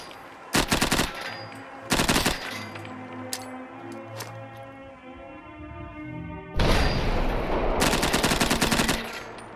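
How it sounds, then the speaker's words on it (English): An FN P90 submachine gun in Fallout 4 rips out several loud, rapid automatic bursts on a close-quarters range, with metallic clinks and a humming background between volleys, no talking. "On the close quarters combat range, the P90 destroyed the targets at a solid pace"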